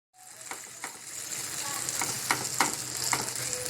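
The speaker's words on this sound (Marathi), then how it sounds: "आता हे मी थालीपीठ पॅनवरती टाकून घेणार आहे।" A thalipeeth flatbread is laid on a hot oiled pan and starts to sizzle, the frying hiss building steadily, with a few soft taps and no voices.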